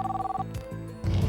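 A telephone rings in an office with a short electronic warble, then cuts off into a brief rustle as the handset is picked up.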